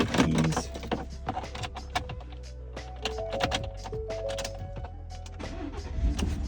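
A rebuilt salvage truck engine cranks and catches, then settles into a steady idle with the intake off, mechanical clicks and whirs over it.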